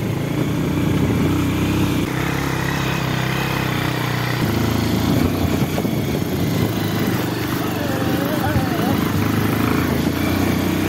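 Loud, steady rumble of a running motorcycle engine close by, its pitch shifting a couple of times, with voices talking over it.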